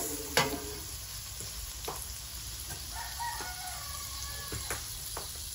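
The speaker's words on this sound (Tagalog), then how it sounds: "Siyempre, isasangkot sa natin ang mga sibuyas." Onions frying in virgin coconut oil make a soft, steady sizzle in a pan, with a few sharp scrapes and clacks of stirring and a rooster crowing in the background.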